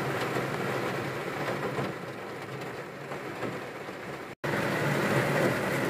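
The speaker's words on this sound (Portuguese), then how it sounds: "Chuva e vento com vontade." Steady heavy rain driven by wind at a small rural property under construction, a dense continuous hiss with a brief dropout near the end, no talking.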